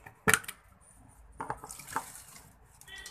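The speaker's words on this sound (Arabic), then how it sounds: "نبدا نحط له بقى الميه، نزوده بالميه للاخر للبطرمان" Water is poured into a jar of quick cucumber pickles made with vinegar, giving a sharp splashy start and then an uneven gurgling trickle, close up and fairly quiet.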